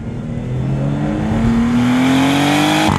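A Maserati GranTurismo with a V6 engine accelerates hard, its loud close note climbing steadily in pitch, then a sharp crack at the upshift near the end.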